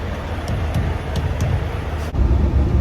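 A loaded semi-truck driving, heard from inside the cab as a steady, loud low engine and road rumble with a brief dip and then resumed drone, and no talk.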